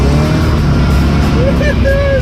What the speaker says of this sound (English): Tow truck lifting.